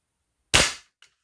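A single sharp shot from a Northern Air breaker-barrel air pistol, a quick crack with a brief decaying tail and a faint click after.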